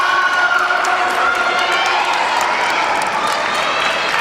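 A Central Catholic crowd at a high school district singles tennis championship cheers and roars after a point at 30-all, a sustained loud wash of voices and whoops with scattered clapping throughout.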